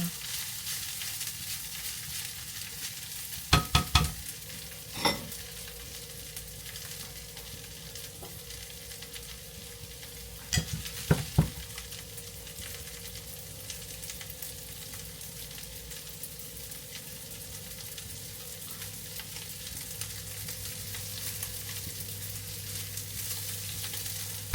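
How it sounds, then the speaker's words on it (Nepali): Soaked rice lightly frying in a pan, a steady low sizzle held close and even, broken by a few sharp clinks of a utensil near the start and middle, with no talk. "मैले भिजाएर राखेको चामल चाहिँ मजाले हल्का फ्राई गर्दैछु।"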